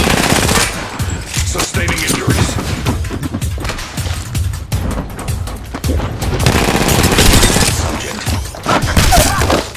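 Automatic gunfire in Apex Legends, loud rapid bursts of shots rattling almost nonstop with brief gaps, close and intense, with voices shouting faintly beneath.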